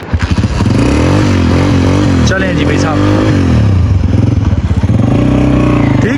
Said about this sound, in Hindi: ये है बाइक, इस पे जाएंगे